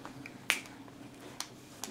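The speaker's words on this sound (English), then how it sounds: "Good clapping." A child claps hands during a clapping song, three sharp, isolated, fairly faint claps spaced apart, with no talk.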